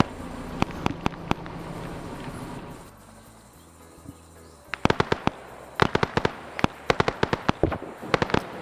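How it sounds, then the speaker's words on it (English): Artillery shells land in a video game, Arma 3 SOG Prairie Fire, as a series of sharp, cracking impacts. A cluster comes early, then a quieter lull, then a rapid, irregular barrage of close, loud bursts. "I think that's the artillery coming in"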